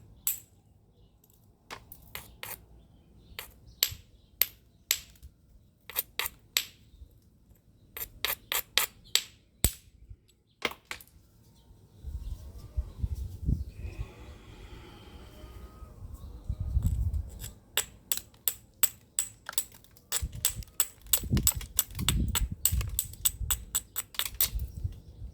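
A sandstone hammerstone strikes stone to knock off flakes, giving sharp separate clicks in irregular bursts, with softer brushing and scraping in between.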